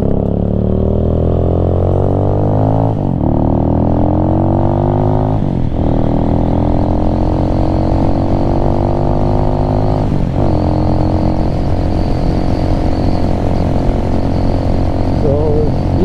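A Venom Ghost Chopper 250 motorcycle engine runs steadily and close, with its pitch dipping and rising through a few brief rev changes on a cold day.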